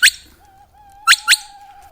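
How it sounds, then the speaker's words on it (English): A short series of whistles: a thin sustained tone with quick bright chirping bursts at the start and two more close together near the end, clear and alone. "So now she'll give a series of whistles."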